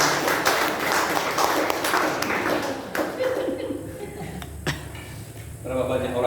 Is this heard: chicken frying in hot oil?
no